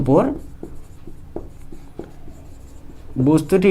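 Pen or chalk writing a vector-addition equation, with short scratchy strokes and taps between bits of a man's speech at the start and end.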